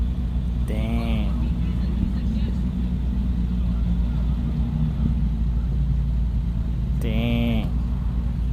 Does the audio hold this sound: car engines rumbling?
yes